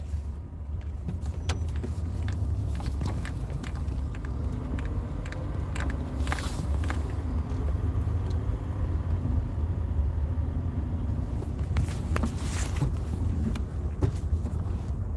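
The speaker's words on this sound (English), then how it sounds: "I'm just driving around in a circle, kind of chilling." A car driving slowly around in a circle: a steady low engine and road rumble runs throughout with occasional clicks and brief rattles, fairly close and alone.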